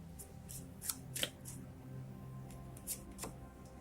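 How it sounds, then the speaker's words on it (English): A tarot card slid and drawn from the deck, soft papery shuffling with a few sharp flicks and snaps, quiet and close with no talk. "Let's go ahead and draw this last card here."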